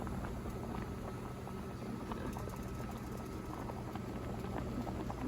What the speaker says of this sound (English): And then my noodles is boiling.